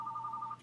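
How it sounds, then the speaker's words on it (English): A phone rings briefly with an electronic tone, a steady, moderately loud pitched burst that cuts off after well under a second. "that's my phone, ignore it"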